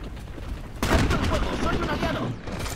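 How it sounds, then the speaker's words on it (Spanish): Gunfire in the PlanetSide 2 video game, a dense burst of rapid shots that breaks in suddenly after a quiet start and keeps rattling loudly and continuously to the end. "Más para la derecha escucho más tiros."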